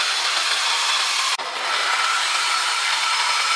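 A 2017 Chevrolet Silverado 1500 frame is cut during a lift install, a loud, steady, harsh metal-cutting roar up close that breaks off for an instant and then resumes continuously.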